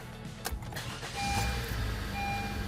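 A car's starter motor cranks the engine and it fires up, one of several cars being repaired: a brief whirring crank followed by a steadier, louder running engine, close by, with no talk.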